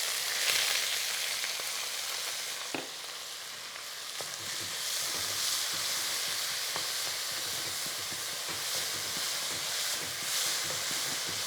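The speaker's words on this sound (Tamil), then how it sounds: "வெங்காயத்தை நல்ல கோல்டன் ப்ரௌன் வரைது வரைக்கும் நல்லா வதக்கிக்கணும்." Chopped onions and curry leaves fry in oil in a kadai, giving a steady hiss of sizzling throughout with a few soft knocks and scrapes of stirring. The sound is moderately close, and no one speaks.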